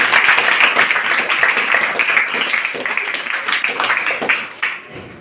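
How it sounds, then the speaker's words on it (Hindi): A crowd at a motivational educational program in India claps loudly and continuously, a dense, steady patter that fades near the end. "जोरदार ताली आप लोग।"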